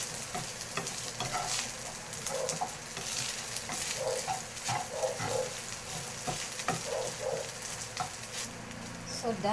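Leftover Century Tuna and egg stirred in a hot pan with salt, black pepper and magic syrup, a steady sizzle under scraping utensil strokes that come in short bursts, with faint birds or chickens somewhere in the background.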